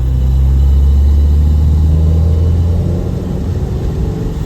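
A Mahindra XUV500 W10 on a road test, its engine rumbling loud and close as it pulls through second gear, holding a deep steady drone that eases off slightly toward the end, with no speech.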